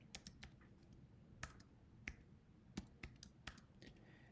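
Faint typing on a computer keyboard, sparse irregular key clicks with a few sharper taps, no talking.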